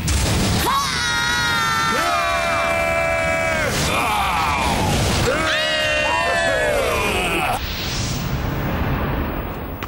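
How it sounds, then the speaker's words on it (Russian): A deafening battle scream in an animated series: loud, sustained wailing cries that rise and bend in pitch over a dense, noisy roar, followed by a whooshing blast near the end. "Оглушительный вопль тебе поможет!"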